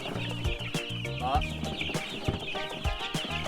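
Many free-range chicks peep in rapid overlapping high chirps as they are loaded up for the move to a farm grower house, heard close with a low rumble and music beneath.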